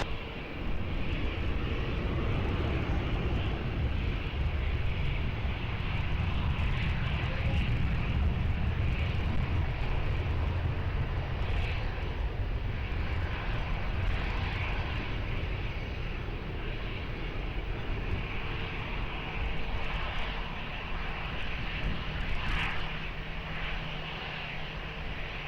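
Airliner departing runway 20 at Lisbon Airport, a steady broad jet roar holding at constant strength throughout with a low rumble beneath, heard from a distance without any voices.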